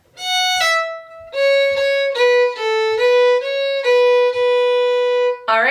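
Fiddle playing a phrase of the Scottish jig A Hundred Pipers: clear, close bowed melody of sustained and stepping notes in a lilting rhythm, solo with no accompaniment, ending on a short scratchy bow stroke.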